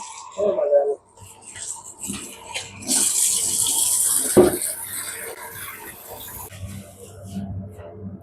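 Cut chillies for a local-style pickle are rinsed under running tap water, a bright hissing stream in the middle with some splashing and handling around it, while a voice talks at times.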